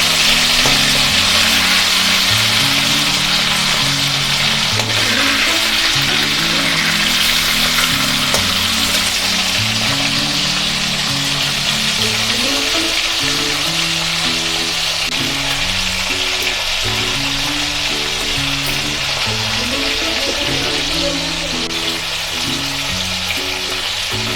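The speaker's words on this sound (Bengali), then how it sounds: "মাছগুলো বেশি কড়া ভাজা হবে না, হালকাই ভাজা হবে।" Pieces of gurjali (salmon) fish fry lightly in oil, a steady close sizzle filling the whole stretch with a soft bubbling crackle and occasional faint stirring, no voices.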